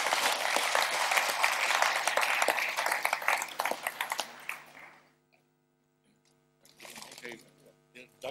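People at a Hardenberg municipal council meeting in December 2016 applaud loudly, a full burst of clapping that fades out into near silence, followed by a shorter, quieter spell of claps.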